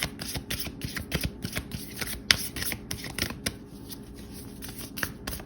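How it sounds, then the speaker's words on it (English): An oracle card deck being shuffled by hand, a steady run of soft papery riffles and flicks with one sharper snap partway through, close and quiet with no talking. "Let me just finish the shuffle."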